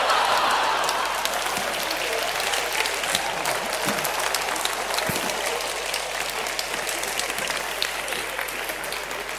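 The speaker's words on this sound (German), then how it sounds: "Danke für den Applaus" Audience applause at a talk on money and law: steady, dense clapping from a large crowd that holds throughout, with a few louder individual claps standing out near the middle.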